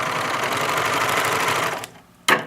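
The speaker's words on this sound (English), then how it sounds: "I've serged the top, the bottom, and the 3 sides" A serger sewing machine stitches along the fabric edge of a pair of boxers in a steady, close whirring run that stops abruptly, followed by a short pause and one brief final burst.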